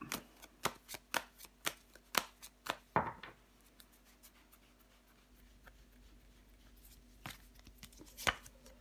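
Tarot cards being laid down and handled during a reading: a rapid run of crisp slaps and shuffles up close, then quieter rustling and a few more sharp card snaps near the end, with no talking.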